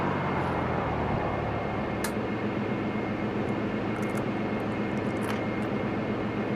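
A Dash 8 Q400 turboprop in Flight Simulator X, pushing back and taxiing at London City, giving a steady droning engine hum with a constant high whine and a few faint clicks, heard alone.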